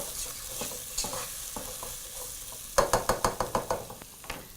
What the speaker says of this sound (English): Right, so in goes your onions. Next up, just going to mix that very quickly.